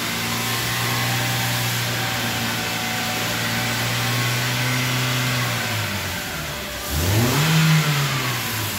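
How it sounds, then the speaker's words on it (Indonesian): A car engine revving after an oil change in a workshop, a steady loud drone that sags briefly and then surges up in a single rev toward the end. "Digas-gas loh, kayak mobil balap."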